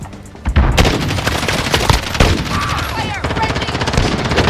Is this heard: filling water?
no